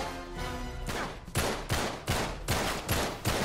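Loud gunfire from Uncharted 3: Drake's Deception, a string of sharp, evenly spaced shots about every half second, preceded by a brief stretch of steady game ambience, with no talking.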